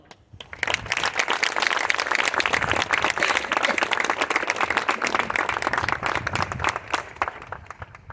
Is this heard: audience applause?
yes